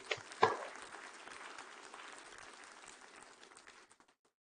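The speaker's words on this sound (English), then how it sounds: "Let us give them a warm applause." An audience applauds at a PDPU university graduation ceremony, the clapping swelling sharply at first, then thinning into a scattered, fading patter before dying away into silence.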